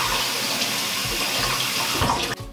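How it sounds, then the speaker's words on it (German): Soaked oat flakes rinsed in a sieve under running tap water: a steady, close, full-band rush of water pouring through the mesh, continuous for over two seconds before cutting off abruptly. "Die eingeweichten Haferflocken gebe ich in ein Sieb und spüle sie mit Wasser."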